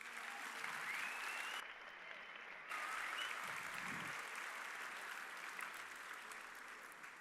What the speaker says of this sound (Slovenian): Prosim za spodbuden aplavz za vse nastopajoče.